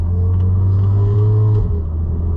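Interior of an AWD-swapped VW Golf GTI on a test drive: a steady low engine drone and road rumble at cruising speed with a slight shift in tone near the end, close and constant with no talking.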